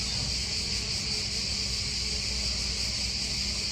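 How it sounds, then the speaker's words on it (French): Cicadas sing in a Mediterranean setting, a continuous, dense, high-pitched buzzing drone that holds steady and fairly loud throughout with no pauses. "Je vais écouter le chant des cigales."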